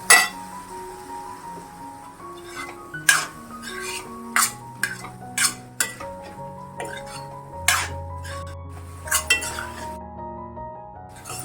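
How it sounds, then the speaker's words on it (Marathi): Broad beans being sautéed in a pan, with a spoon stirring them in a steady series of sharp metal clinks and scrapes against the pan. The sounds are close and clear, with no talking. "आता 2 मिनिटं परतायचं आहे आपल्याला"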